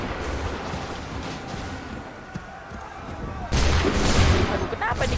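Musket volley fired in Assassin's Creed III: after a stretch of murmuring battlefield ambience, a loud, dense crack of many muskets going off together bursts out and rumbles on to the end.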